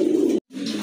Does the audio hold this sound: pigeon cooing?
yes